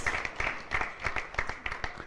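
An audience at a Jain religious discourse gathering claps to welcome guests, with soft, fairly regular claps sounding distant and faint, and no voices on top.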